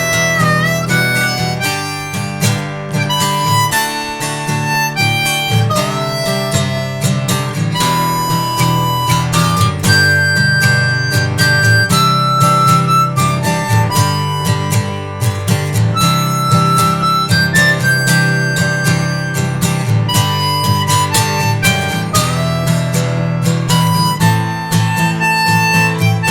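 Harmonica solo from a song, a continuous dense wailing melody over full band accompaniment, steady and loud throughout with no talk.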